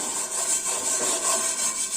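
Steady, close, continuous scrubbing on a non-stick tava that has been coated with a cleaning mix of tea dust and liquid, a harsh rasping rub with no pauses and no speech.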